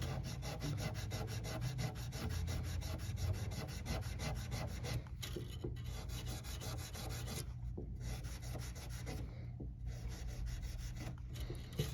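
A guitar fret is sanded by hand with 800 grit abrasive, a close, soft continuous rubbing rasp with brief pauses between strokes.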